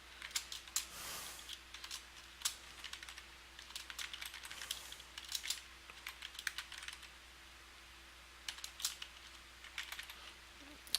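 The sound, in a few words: typing on a computer keyboard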